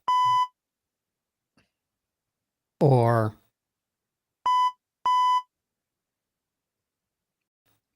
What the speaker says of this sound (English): he can only speak, I guess, yes or no in beeps